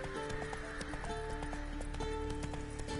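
Roach the horse galloping in The Witcher 3 video game, with steady rapid hoofbeats under a continuous backdrop of game music and ambience.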